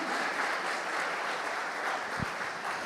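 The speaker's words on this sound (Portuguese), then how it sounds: "Isso é para aplaudir de pé. Você pode aplaudir?" A church congregation applauds in a steady, dense wash of clapping that fills the room for about three seconds, with no one speaking over it.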